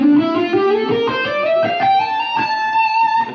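An electric guitar plays a D natural minor lick with shift slides in place of tapping, a single sustained line gliding steadily upward in pitch, bright and slightly distorted.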